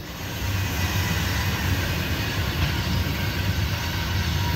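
A loaded KCS grain freight train led by an ES44AC locomotive, with an AC44 in tow, rolls past in a loud, continuous rumble and rattle that never lets up, with no voices.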